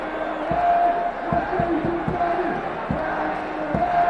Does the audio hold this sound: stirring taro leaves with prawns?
no